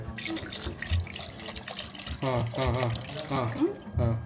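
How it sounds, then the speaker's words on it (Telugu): Water splashes and gurgles as it is poured into a cooking pot for haleem, running in uneven bursts, while a voice speaks over the later part. "ఒక 1 లీటర్ వాటర్ వేసుకోవాలి."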